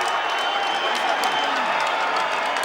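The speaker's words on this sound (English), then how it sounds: "First time I've ever seen media people applauding at the end of a fight." Applause and crowd noise in an arena at the end of a boxing match, Diego Corrales vs Jose Luis Castillo, a steady roar of clapping and murmuring with a voice talking over it.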